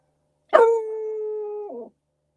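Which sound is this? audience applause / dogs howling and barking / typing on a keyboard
dogs howling and barking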